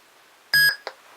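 A replica lightsaber with a crystal shard blade plays its Bespin sound font, a short electronic tone lasting a fraction of a second followed by a brief softer blip, close and clear in a quiet room.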